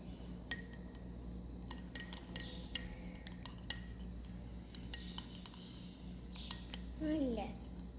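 Pink slime stirred in a bowl, with light clinks and soft taps of a utensil against the bowl scattered over a steady low background hum.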